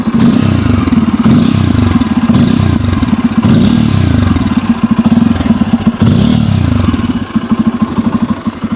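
A Bajaj Pulsar N250 motorcycle with a dual-barrel exhaust revs up close by in repeated throttle blips, a loud, heavy roar that rises and falls over its idle beat before settling back to a throbbing idle.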